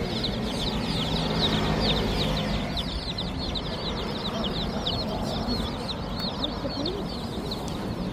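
Chickens and chicks cluck and peep continuously at a farm, a busy flock heard close with overlapping high chirps and lower clucks throughout.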